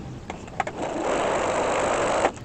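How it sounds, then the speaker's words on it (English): A sewing machine runs a steady quarter-inch seam around a fabric bowl cozy, a few quick stitch clicks at the start building into a continuous, even whirring hum that stops abruptly near the end. "I'm going to sew all the way around with a 1/4 inch seam"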